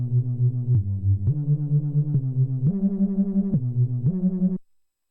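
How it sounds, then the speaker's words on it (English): A buzzy synth line in a music production session, with an octave layered in the stereo sides, plays a loud stepped melody of sustained notes in a pulsing rhythm, then cuts off abruptly. "So like you've got an octave in the sides."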